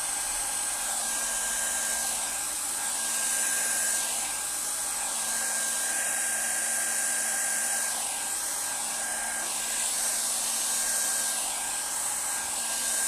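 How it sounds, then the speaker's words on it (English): A hair dryer blows ink across paper, a continuous loud, close whooshing hum with a steady whine, swelling slightly as it is moved about, running unbroken with no talking. "So I can have my hairdryer again."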